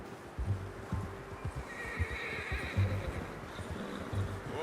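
A horse in the video game Red Dead Redemption 2 neighs and snorts over a clip-clop of hooves, heard fairly close and fairly quiet, with no talking.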